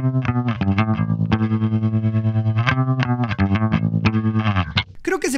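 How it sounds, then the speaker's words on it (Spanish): Electric bass played through a tremolo guitar effect, with low sustained notes pulsing rapidly on and off, loud and close, ending in a short burst of brighter sound, with no voices. "Ahora pasemos a algo más clásico, un trémolo."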